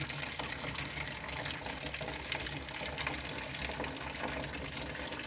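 Tap water gushes steadily into a basin, a continuous close hiss and splash filling it for washing crabs, with no voices.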